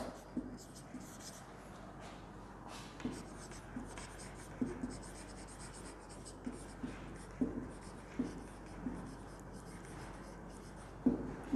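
Pens scratching across paper as students write keywords in their books during a classroom lecture, soft intermittent strokes and taps under a faint room hum.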